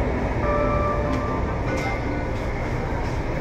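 An LRT light rail train on the Manila line extension from Baclaran rumbles along with a steady low roar and faint squeals, heard from inside the carriage.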